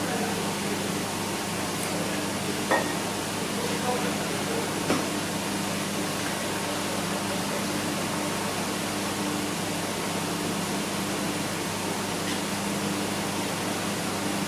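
Liquid nitrogen boils off with a steady, loud hiss during a slow fill of a cooling line for a vacuum manipulation stage, an unbroken rushing noise throughout with a few faint clicks.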